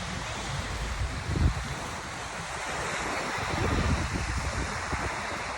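Ocean waves at Deerfield Beach wash and roll in continuously, with swells rising and falling under some wind rumble against the mic; no one speaks.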